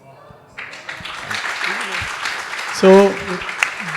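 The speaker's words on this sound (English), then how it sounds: "big round of applause" Audience at an interior design presentation breaks into applause that swells after a brief spoken word, continuing under a voice.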